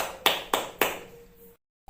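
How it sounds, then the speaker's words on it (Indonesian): Fourth-grade classroom group clapping for group 1, three sharp, evenly spaced claps in unison, close and fairly quiet, then silence. "Kita berikan tepuk tangan untuk kelompok 1"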